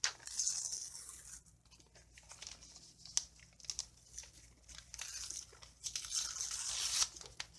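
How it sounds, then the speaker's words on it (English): Paper torn by hand to fit a book, with crinkly ripping bursts and rustling handling that come and go over several seconds, close and fairly quiet, with no talk. "I'll tear some of this off"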